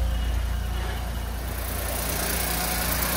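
A car engine idles steadily and quietly, a low continuous hum with faint mechanical vibration throughout, no voices.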